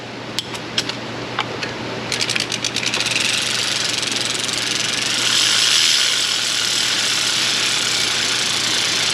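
Ratchet wrench clicks in quick bursts while tightening bolts on a Honda Civic engine, close and moderately loud over a steady background hum.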